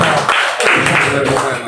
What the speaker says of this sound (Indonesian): Boleh berikan tepuk tangan bagi Tuhan kita saudara.